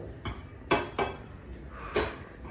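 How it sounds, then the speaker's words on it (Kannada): Steamed idlis being lifted off a metal idli steamer plate, a few sharp close metallic clinks and taps spaced unevenly over a couple of seconds, with no voices. "ಇಡ್ಲಿ ಪ್ಲೇಟಿಂದ ಇಡ್ಲಿನ ಇವಾಗ ಇಡ್ಲಿ ಎಲ್ಲ ತೆಕ್ಕೊಂಡ್ಬಿಡ್ತೀನಿ"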